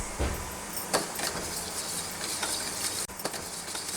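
A spoon stirs 200 grams of sugar into water in a pan for homemade mango drink syrup, a soft, steady scraping swirl with a few faint knocks against the vessel and no voices.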